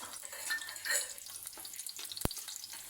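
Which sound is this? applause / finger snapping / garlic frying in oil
garlic frying in oil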